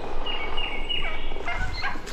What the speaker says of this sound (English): Turkeys. They're on the road.